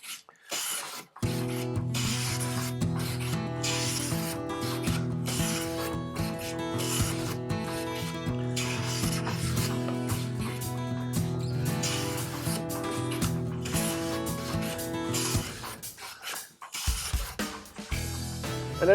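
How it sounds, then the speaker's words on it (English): A hand plane shaves thin curls from a wooden guitar fretboard, a close, steady rasping rub that sweeps on continuously for most of the stretch before fading out near the end. "with taking these very thin shavings, I don't have to worry about tear out and such"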